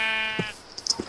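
A single loud bleat from a sheep in a video game is followed by a few short, quieter clicks and squeaks.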